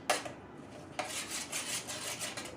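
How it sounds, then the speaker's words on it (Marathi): A spoon stirs chopped onion, tomato, ginger and salt into curd, giving soft, repeated scraping and clinking strokes against the bowl, with a sharper knock at the start and another about a second later. "तर आता मी सर्व दह्यामध्ये मिक्स करत आहे"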